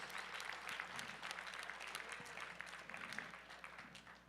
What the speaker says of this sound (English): round of applause for Lindsay Judge It's